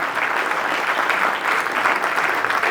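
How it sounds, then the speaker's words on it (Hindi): An audience at a poetry event breaks into steady, loud applause that continues throughout, with no speech over it. "मैं एक बार आप सबसे निवेदन कर रहा हूँ कि एक बार ताली बजाइए उनके लिए।"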